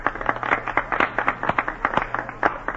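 Clapping for a returning war hero at a staged welcome in a 1947 radio drama, heard as a steady, fairly even run of distinct, moderately close handclaps with no talk over it.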